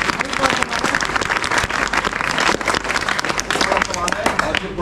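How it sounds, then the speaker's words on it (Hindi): An audience at a school seminar clapping, dense steady applause filling the room, with talk audible underneath it. "छोटा सा ताली।"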